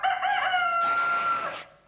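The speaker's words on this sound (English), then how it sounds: "Blasted rooster." A rooster crows once, loud and close, a long strained cock-a-doodle-doo with a ragged, rising finish.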